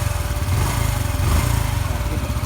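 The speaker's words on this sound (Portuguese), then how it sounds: "Visualize que o motor tá bem caladinho" A 2013 Honda Biz 125 motorcycle engine runs smoothly and quietly at a steady idle, with an even low, rapid pulsing throughout and no knocking, close by and alone without talk.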